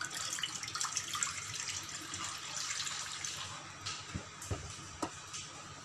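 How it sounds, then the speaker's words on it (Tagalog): Chicken broth poured into a cooking pan, a soft continuous splashing trickle with a few faint clinks near the end, quiet and close, no talking. "lagyan natin ng chicken broth"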